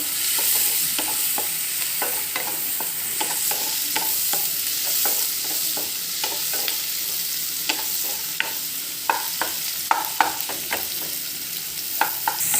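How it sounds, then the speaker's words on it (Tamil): Tomatoes with salt sauté in a pan with a steady sizzle, while a spoon scrapes and taps the pan in quick, uneven strokes that grow busier toward the end. "இப்போ தக்காளி கொஞ்சம் நல்லா வதங்கணும்."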